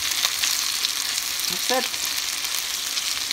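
Garlic fries in a pan with a steady, bright sizzle that stays even throughout, while a voice briefly speaks over it.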